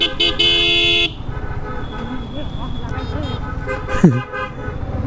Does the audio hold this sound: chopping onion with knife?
no